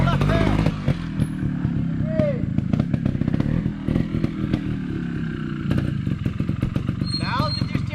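A motorcycle engine revving hard in bursts and dropping back during wheelie riding practice, close and loud, with a voice talking over it.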